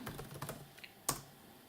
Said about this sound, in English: let's test the keyboard